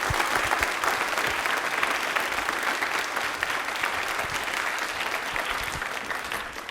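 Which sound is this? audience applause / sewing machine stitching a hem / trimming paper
audience applause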